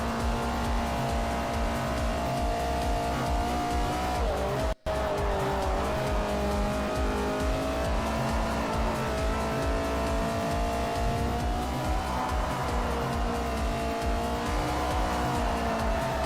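Race car engine note from a V10 twin-turbo R6 in Forza Motorsport 4, a loud sustained roar with rising and falling revs and tire squeal, briefly cut once, continuous throughout.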